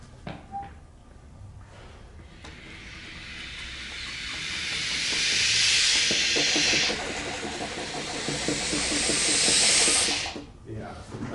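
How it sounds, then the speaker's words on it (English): Wind instruments in an ensemble rehearsal of The Last Hive Mind by Shuying Li play only breathy air sounds and soft key clicks. The hiss rises and falls in broad swells over a faint patter of clicks, with a voice heard at times. "Just air sound and key click, folks."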